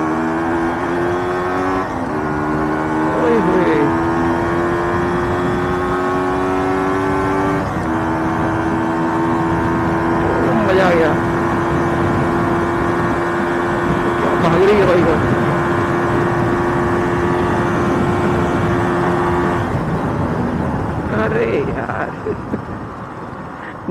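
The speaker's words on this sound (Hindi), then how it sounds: "चलो थोड़ा सा खींचते हैं।" A Yamaha RX135 two-stroke cafe racer motorcycle accelerates and shifts through gears on a ride, engine pitch climbing in several rising steps with wind noise. A rider talks over it at times.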